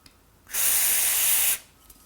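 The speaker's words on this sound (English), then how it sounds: "put the straw in the opposite side of the switch, give it a good spray" A single steady burst of aerosol spray hisses loudly for about a second, then cuts off, leaving quiet room tone.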